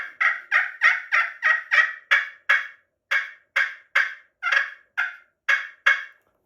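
Wild turkey putts and clucks: about fourteen short, sharp calls, rapid and evenly spaced at first, then more spread out, close and clear with no talking.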